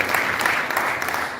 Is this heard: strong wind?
no